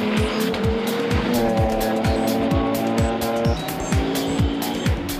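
Race cars at the 24 Hours of Nürburgring, led by a Manthey Porsche and an Audi, roar past one after another in a rapid series of loud, close engine passes with shifting pitch, over a constant racing din.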